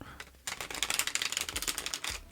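A deck of tarot cards is shuffled up close: a quiet pause, then a dense, rapid riffle of papery clicks and rattles lasting about two seconds.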